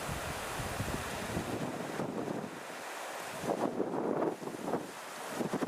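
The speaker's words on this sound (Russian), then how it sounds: "Ветер, конечно," Strong mountain wind buffets the microphone in a steady roar, with louder gusts surging near the end and a wash like distant surf, in the Beloretsky District of Bashkortostan.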